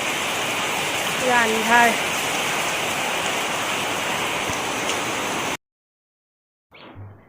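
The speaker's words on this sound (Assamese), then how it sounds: "ৰাতিপুৱাৰ পৰা বৰষুণে দি আছে বৰষুণ কমাই নাই এয়া ইমান বৰষুণ দিছে" Heavy, continuous rain pours down at a home in Assam, a dense steady hiss that fills the scene, with a few words spoken briefly over it before the sound cuts off.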